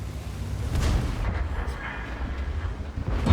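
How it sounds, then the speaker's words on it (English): Heavy cannon fire booms in a tank video game, deep rumbling impacts rolling over one another at close range, fairly loud throughout the short burst. "as you can see, he's bouncing shots there"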